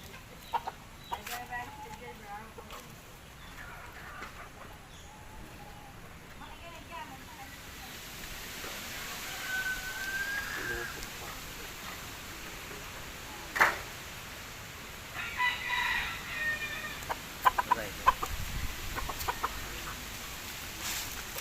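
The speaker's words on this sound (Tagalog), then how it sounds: "Ano na mga manok ko." A flock of chickens clucks in scattered bursts and soft calls outdoors after rain, fairly faint, mixed with low ambient noise and occasional human voice.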